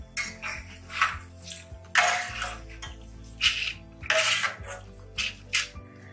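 A metal slotted spoon clinks and scrapes against a pan as fried green chilli pakkavada is lifted out of hot oil, with a sharp series of clatters and knocks close by.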